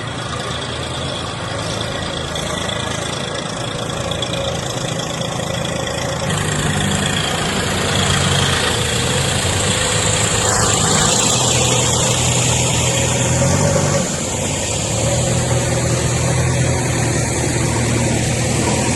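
A tractor engine runs steadily at a flood-hit district collectorate in Hyderabad, a continuous loud low rumble lasting throughout with no speech.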